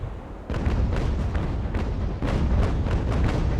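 Broadside cannon fire from a sailing warship in the video game Ultimate Admiral: Age of Sail, a rolling series of loud booming blasts firing one after another in a steady ripple.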